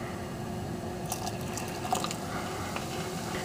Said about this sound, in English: I'm also going to add a little vinegar